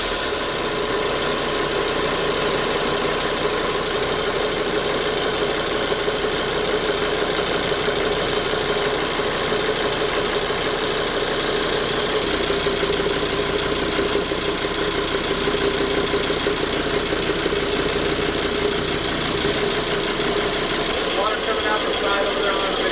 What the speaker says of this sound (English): Start the starboard engine.